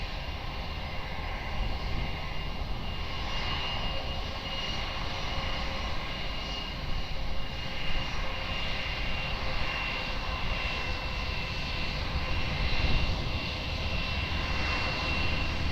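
Airliner landing at Lisbon Airport, its engines producing a continuous loud broadband roar that stays steady and close throughout, swelling slightly toward the end.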